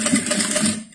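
A sewing machine stitches and backstitches through synthetic fabric while a small zippered pouch is made, a quick, close run of rapid mechanical clatter that stops abruptly after about a second.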